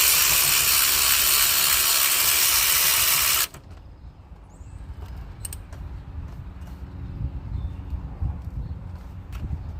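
A socket ratchet works on the fuel rail bolts of a 2015 Chevy Equinox, with faint clicking and light metallic handling. An earlier stretch is masked by a loud, steady hiss.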